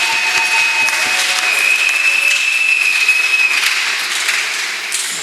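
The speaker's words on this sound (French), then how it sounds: "Puissions-nous applaudir pour la présence de notre Dieu." A church congregation applauding during a service, loud close dense clapping that runs steadily throughout, with a faint sustained tone in the background.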